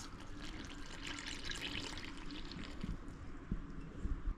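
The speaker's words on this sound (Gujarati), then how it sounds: "2 ચમચી તેલ ઉમેરું છું અને ખાટી છાશ" Sour buttermilk pours steadily into a bowl of batter, a soft continuous splashing that trails off into a few light clinks near the end.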